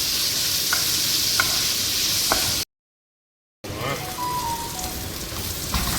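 Goat offal (liver) being lightly sautéed in a pan until golden, giving a steady close sizzle with a few stirring scrapes; the sound cuts out for about a second midway, then resumes with faint background voices.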